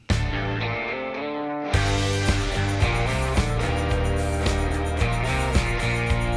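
Electric guitars play a supporting riff inside a full, dense rock mix, with drums and bass entering after a thinner opening, all loud and steady with nobody talking.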